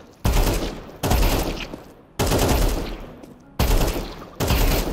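Gunfire from Counter-Strike 2 comes in five loud, close bursts of rapid shots separated by short pauses.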